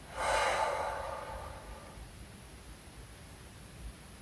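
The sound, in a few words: deep breath out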